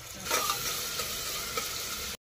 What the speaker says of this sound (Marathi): आता कांदा परतवायचा आपल्याला.